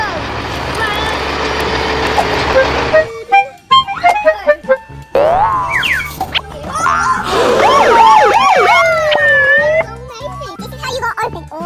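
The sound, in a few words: toy ambulance siren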